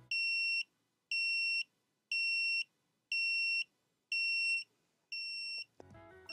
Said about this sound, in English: Talking about the alarm clock, how is the sound? How loud can it go?